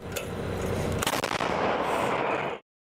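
A heavy self-propelled artillery gun firing NATO-standard ammunition booms with a deep, sustained roar that rumbles on for a couple of seconds before cutting off.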